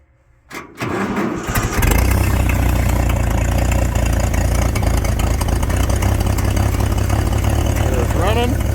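A 1963 International Harvester Farmall 706 tractor engine cranks briefly, catches and settles into a steady, loud idle on a cold day of about 40 degrees, running alone for several seconds.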